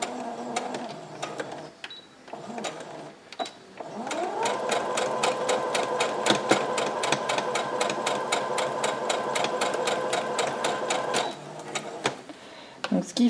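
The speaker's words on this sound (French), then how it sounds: "là on va passer à la couture" Domestic sewing machine stitching a dress seam, running in a fast, even rapid-fire run for several seconds after short bursts, close and clear, with someone speaking French around it.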